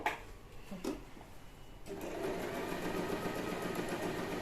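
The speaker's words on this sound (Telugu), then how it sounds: "ఇలా వీల్ తిప్పిన తర్వాత స్టార్ట్ చేయాలి, డైరెక్ట్ స్టిచ్ చేయదు మీకు" Usha electric sewing machine: a couple of light mechanical clicks, then from about halfway a steady, close motor whir as the machine stitches.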